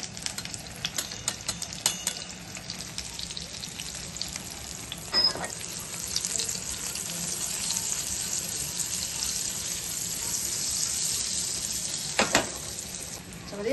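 Spices sizzling in hot oil for a tempering of mustard seeds, curry leaves, chili, salt and turmeric; a steady close frying hiss with occasional spatula clatters and short bursts of crackle.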